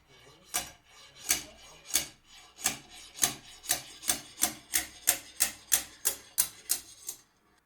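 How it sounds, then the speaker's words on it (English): A steady series of about fifteen sharp metallic hammer taps extracting a femoral surgical nail, evenly spaced and growing slightly quicker, each a crisp close strike. "The nail is extracted with gentle blows from the combined hammer."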